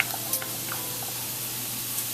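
Tomatoes sizzling in a pan over a very low flame for marinara sauce, a steady soft fry hiss with a few faint scattered pops and ticks, close and quiet, no talking.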